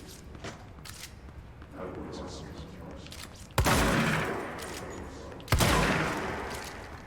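Two loud, sharp blasts from a shotgun-like weapon form in the video game Control, a couple of seconds apart, each with a booming decaying tail over faint game ambience and quiet voices.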